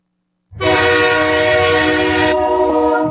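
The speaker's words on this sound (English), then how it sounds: "Another train!" A loud, sustained train horn blast begins abruptly and holds steady for close to three seconds, its tone shifting slightly partway through, heard alone at close range.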